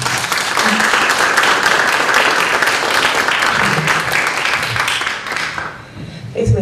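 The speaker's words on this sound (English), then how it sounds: "Let's have some applause for our candidates." Applause from the audience at a Danbury Board of Education meet-the-candidates event, loud and dense for about six seconds, then thinning and fading near the end, with a few voices mixed in.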